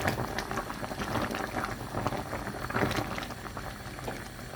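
Orange jam boils and foams in a pot, a dense, steady bubbling and popping that holds up close throughout with no talk.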